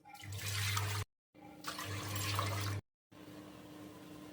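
Water pours from a bowl into a pressure cooker on a gas stove for boiling chickpeas, two splashing, gurgling pours separated by brief pauses, then a quieter stretch, close and moderately loud.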